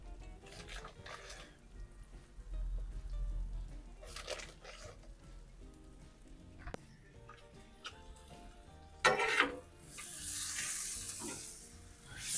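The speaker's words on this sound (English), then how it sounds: "Stir these vegetables up." Vegetables being stirred and pressed on a Blackstone griddle beside Philly steak and cheese, a steady low sizzle with scraping turns and a louder burst of crackle near the end.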